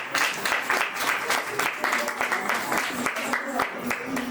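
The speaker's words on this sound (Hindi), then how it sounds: "एक बार उनके लिए जोरदार तालियां होनी चाहिए" An audience claps for a children's solo dance performance at a school farewell ceremony and results event, with moderately loud, uneven clapping mixed with voices in the room.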